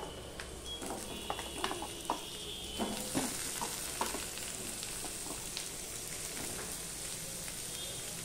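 Cut potatoes sizzle steadily in a pan with fried onions and five-spice. A continuous, fairly faint frying hiss runs throughout, broken by the scrape and clatter of a spoon stirring.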